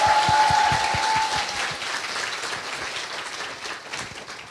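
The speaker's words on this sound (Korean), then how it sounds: "박수 부탁드립니다" Audience applause at a live talk-show taping, a dense loud burst of many hands clapping that tapers off gradually over a few seconds.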